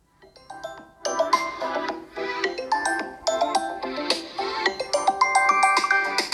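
A ringtone melody plays from the bottom-mounted speaker of a Vivo V23e smartphone, a bright, tonal tune with repeating chime-like notes that runs steadily and fairly loud for several seconds, with no talking.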